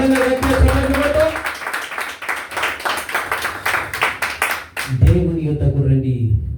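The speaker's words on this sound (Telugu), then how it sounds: "బలంగా గట్టిగా చప్పట్లు కొట్టు." Loud rhythmic clapping from a church congregation, hands striking in steady quick bursts for several seconds while a preacher's voice talks and exhorts over it, then the clapping drops away as his voice carries on alone.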